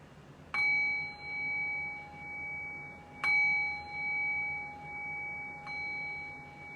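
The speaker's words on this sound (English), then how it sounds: "I'll cue that by ringing the bell 3 times." A meditation bell rings three times, each clear tone struck alone and left to ring out in a long, slowly fading shimmer, with quiet pauses between strikes.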